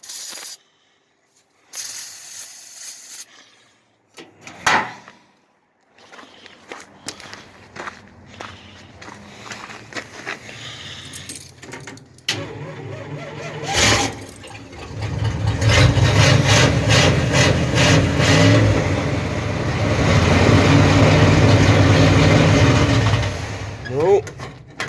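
A Dodge wagon engine cranks repeatedly, starved of fuel, with bursts of starter churning and rough loud running that never settles, separated by pauses; a voice is briefly audible between attempts.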